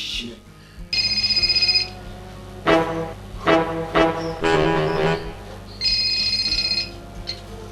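A telephone ringtone rings in repeated electronic bursts in a comedic sketch, with loud voices talking and exclaiming between and over the rings.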